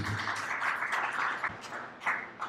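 At the 2021 Prix Amaranthe award ceremony, an audience applauds in a hall, a steady, moderately soft wash of clapping with a few sharper individual claps standing out, without speech.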